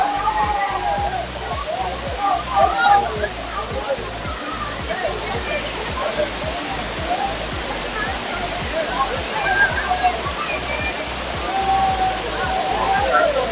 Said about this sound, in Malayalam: സുരുളി വാട്ടർഫാൾ എങ്ങനെയുണ്ട്? അടിപൊളിയല്ലേ?